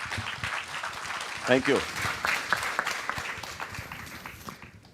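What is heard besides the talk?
applause for conference panel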